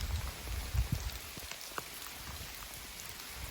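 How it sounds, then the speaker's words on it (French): Heavy rain pelts a tent on a trek through the Peaks of the Balkans, a dense, steady patter with occasional louder drops close by and no voices. "la pluie est violente quand même"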